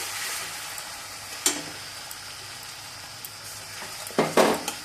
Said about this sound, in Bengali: আদা রসুনের কাঁচা গন্ধ যাওয়া অবধি ভেজে নিয়ে এর মধ্যে দিয়ে দেবো পেঁয়াজ বাটা